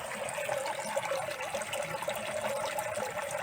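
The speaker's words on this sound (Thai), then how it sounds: "น้ำเก่า ก็จะไหลทิ้งครับ น้ำใหม่ ก็จะเติม" Water pouring steadily from the outflow of a pond circulation system, a continuous close splashing and gurgling stream at low volume with no talk over it.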